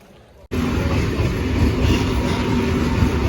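After a brief quiet start, a loud rumbling train roars in and keeps rolling steadily with a low mechanical drone and rattle.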